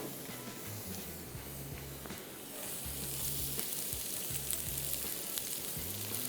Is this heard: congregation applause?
no